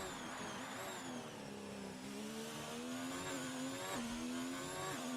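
Race car engine in a sim racing game on the Azerbaijan GP circuit, revving hard and climbing through the gears with rising then dropping pitch, a steady loud whine with a brief tire squeal.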